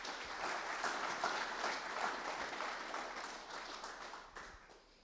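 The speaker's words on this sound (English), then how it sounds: "So can you please give a round of applause for Kyle Timm?" An audience at a horse breeders' talk applauds, a dense wash of clapping that starts fairly strong and slowly tapers off over about five seconds.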